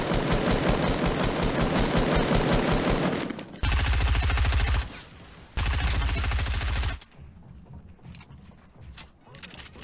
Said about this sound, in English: the reason why I sprayed with my SMG